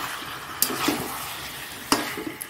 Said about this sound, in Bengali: একদম কষালেই দেখো তেল বেরোচ্ছে